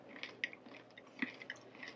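Close, quiet chewing of almond M&M's chocolate candy, with soft crunches and moist mouth sounds spread over a couple of seconds and no talking.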